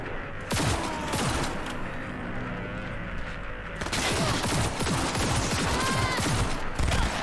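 Frag grenades exploding during combat in Cyberpunk 2077, a series of sharp blasts and crackling bursts scattered across several seconds over a busy background of in-game noise.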